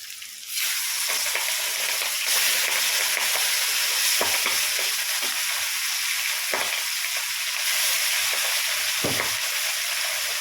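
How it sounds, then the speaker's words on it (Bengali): Fish frying in hot oil in a kadai, a dense continuous sizzle close up with occasional soft knocks and spatters, no talk over it. "আমরা মাছ ভাজা বসিয়ে দিয়েছি এক সাইডে।"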